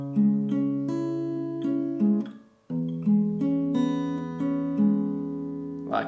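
Plucked acoustic guitar plays an interlude, a slow melodic line of single notes and chords with a short pause midway, clear and close with no talking.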